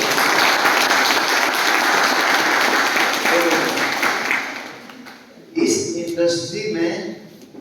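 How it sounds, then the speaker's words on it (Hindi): Sustained audience applause at a training event, dense and loud for several seconds before tapering off, followed by someone speaking. "बहुत बहुत धन्यवाद, एक बार उनके लिए तालियां।"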